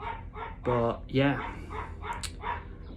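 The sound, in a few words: dog barking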